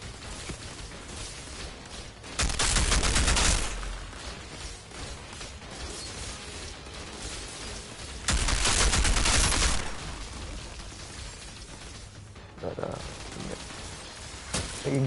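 Sniper fire in a roleplay shooter game: two loud, broadband gunshot bursts around 2.5 and 8.5 seconds, each lingering about a second, over a steady game background with a few smaller impacts near the end.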